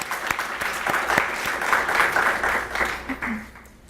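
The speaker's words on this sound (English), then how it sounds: "give him a round of applause" Conference audience applauding at a Southern California event, steady dense clapping throughout the few seconds with a faint voice near the end.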